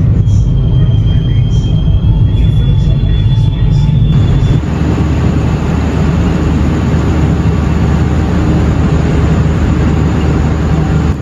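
Jayabaya passenger train rolling into Jatibarang station on track 1, a steady low rumble of wheels and carriage noise throughout, with a brief tonal whine early on and a shift to broader rolling noise midway, near and continuous.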